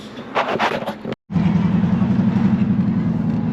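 A car drives through a park with a steady, close engine drone and road rumble, preceded by a brief burst of voices and a short cut to silence.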